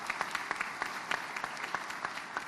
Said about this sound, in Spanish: Voy a pedirles un aplauso a ustedes, que fueron los protagonistas de esta parte del panel